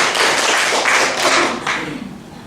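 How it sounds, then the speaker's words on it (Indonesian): A church congregation clapping hands during worship, a fast, dense burst of many claps that swells and then tapers off over a couple of seconds. "tepuk tangan buat Tuhan Yesus"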